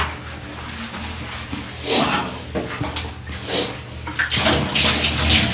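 Water is poured over a person's head while their hair is washed with shampoo, giving uneven splashing gushes and trickles up close, with soft background noise in between.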